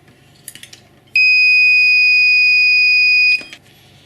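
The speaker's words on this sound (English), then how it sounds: "the alarm will sound because the magnet will be lifted too high" A Double Alpha magnetic powder checker alarm gives one loud, steady electronic tone lasting about two seconds, preceded by a few light clicks and followed by faint handling sounds.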